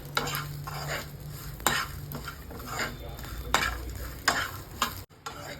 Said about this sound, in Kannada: ಈ ಬೆಳ್ಳುಳ್ಳಿ, ಕರಿಬೇವು ಹಾಕ್ಕೊಳ್ಳಿ. ಇದನ್ನು ಚೆನ್ನಾಗಿ ಒಳ್ಳೆ ಗಮ್ಮಂತ ವಾಸನೆ ಬರೋವರೆಗೂ ಹುರ್ಕೊಳ್ಳೋಣ.